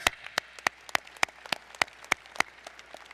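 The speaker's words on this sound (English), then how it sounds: "Give her another round of applause" At a university engineering graduate commencement ceremony, sharp, evenly spaced claps ring out one after another in a quick, regular rhythm, sounding like a few hands rather than a full crowd, against a quiet room.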